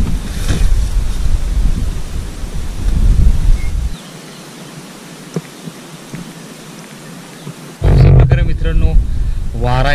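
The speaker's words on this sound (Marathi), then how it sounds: "वारा येतो आणि खूप भारी वाटतंय" Cool wind gusting across an open pasture where cattle graze, heavy buffeting rumble on the microphone, easing into a quieter lull and then surging back loud, with a voice talking over the end.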